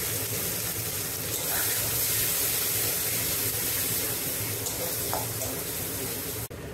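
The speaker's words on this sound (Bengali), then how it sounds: "এবার এর মধ্যে একটু মশলা ধোয়া জলটা দিয়ে দিচ্ছে।" Spice-rinsing water pours into a hot pan of frying paste and whole spices for chicken curry, making a continuous loud hissing rush that holds steady for several seconds before cutting off abruptly.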